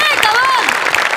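A studio audience at a Marathi comedy show claps, a short burst of dense, close applause mixed with voices over the crowd.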